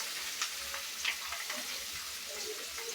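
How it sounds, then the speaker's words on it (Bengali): A large rohu fish head frying in hot oil, a dense, steady sizzle with faint crackles and a brief clink of a utensil partway through. "মাথাটা ভাজবো, এই যে মাথাটা দিয়ে দিতেছি"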